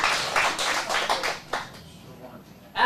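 An acting class gives a short round of applause, a burst of clapping hands that rises, thins out and fades, with a sharp tap near the end.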